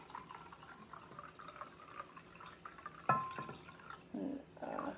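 Water poured into a liquid measuring cup, up to the one-cup line: a soft, steady trickle and splash that swells louder near the end as the cup fills.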